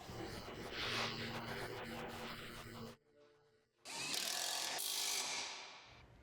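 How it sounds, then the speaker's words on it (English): An impact wrench fitted with an 18mm socket snugs up trailer hitch bolts on a 2021-2024 Ford Bronco, with two loud, sustained buzzing bursts split by a short quiet pause, close to the microphone. "For these, you're going to need your 18mm socket again on an impact."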